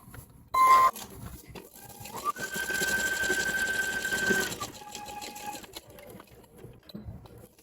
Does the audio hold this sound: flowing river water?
no